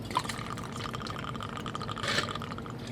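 Jack Daniel's Honey whiskey pouring steadily into a measure for a cocktail, a soft continuous liquid trickle lasting a few seconds, close and fairly quiet.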